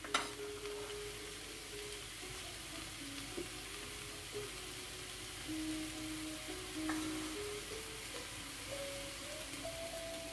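Onion softening over the heat in a pan for a tuna dish, a faint, steady low sizzle with light stirring scrapes and a few soft tonal clinks, heard alone and at a distance.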